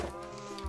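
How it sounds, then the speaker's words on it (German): A Minecraft cow gives one short, low mooing call, clear and isolated. "Da ist eine Kuh."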